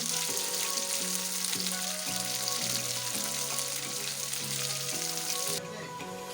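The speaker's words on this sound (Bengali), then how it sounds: "এবার কিছুক্ষণ নেড়ে নেব। ক্যাপসিকামে যাতে কাঁচা গন্ধটা চলে যায়," Chopped capsicum fries and is stirred in hot oil for dry chicken manchurian, giving a loud, continuous close sizzle with background music, the hiss easing slightly near the end.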